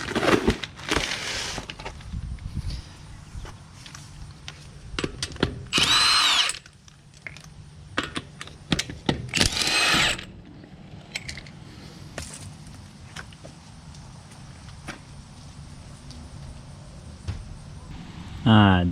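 Power tool, likely an impact wrench, loosening the wheel on a Ford F150 pickup during a rotor change, with two loud close bursts of whirring amid clanks and handling of metal parts and small clinks.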